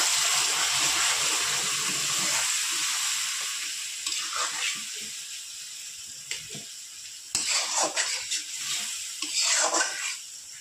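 Water splashes into a pan of frying spice paste for a Bengali amudi fish curry, giving a loud continuous sizzle with bursts of hissing and stirring scrapes throughout.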